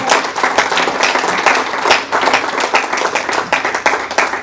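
A church crowd gives a strong round of applause, dense and loud hand clapping that stays steady throughout with no talking.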